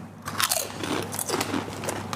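Someone bites and chews a crunchy, cheesy Parmesan-flavored snack up close, with loud crisp crunches repeating in an uneven rhythm and no talking.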